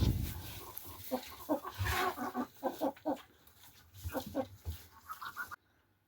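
Chickens cluck in short, irregular bursts at close range, several birds overlapping with soft background noise.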